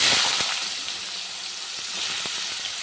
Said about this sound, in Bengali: মুগ ডালটা একটু লাল লাল করে ভেজে নেবো